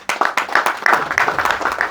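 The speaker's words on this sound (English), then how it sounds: "I think they deserve a big round of applause." Audience applause at a health ministry event, a burst of scattered claps from a small crowd, fairly close and steady for a couple of seconds with no talk over it.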